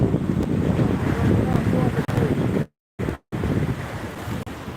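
Continuous roar of sea surf washing onto a beach at Digha with people bathing, mixed with wind noise, broken by a couple of brief silent gaps.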